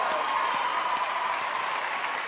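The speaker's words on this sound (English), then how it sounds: "Round of applause for teachers." An audience at a comedy show claps for teachers, a full, continuous round of applause that stays steady and fairly loud across the whole moment.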